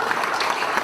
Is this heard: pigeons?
no